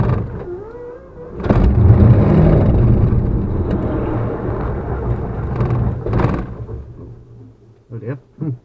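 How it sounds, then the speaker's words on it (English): A Supermarine Spitfire's piston engine tries to start, cranking and catching with a loud rough roar that holds for several seconds, coughs again, then sputters and dies into short bursts, with voices faintly underneath. "Let's start the engine."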